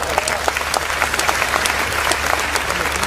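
Audience applause at the close of a spoken Hindi talk, a steady dense patter of many hands clapping continuously throughout, fairly loud and even with no voices over it.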